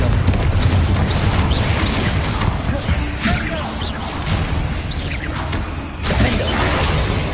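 Fiery Confringo spell blasts in Hogwarts Legacy, a dense stream of whooshes, crashes and impacts layered over continuous loud combat noise, with no clear pause.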